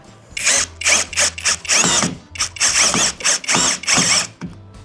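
A NANWEI 16.8V two-mode cordless drill screwdriver running in drill mode, close and loud, whirring in about ten short bursts with brief pauses between them.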